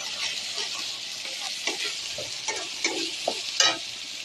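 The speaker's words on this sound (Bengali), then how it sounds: "আদা রসুন পেঁয়াজ ভাজা হয়ে গেছে" Onions frying in a pan with ginger-garlic paste, a steady close sizzle with scattered scraping stirs and a few sharper clicks of a spatula against the pan, no voices.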